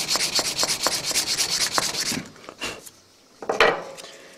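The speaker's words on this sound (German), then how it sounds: "Mit dem Schleifpapier." Sandpaper rubs rhythmically back and forth over a folding knife held in vise jaws, about a dozen quick, close scratchy strokes, then pauses with a few scattered scrapes and handling knocks.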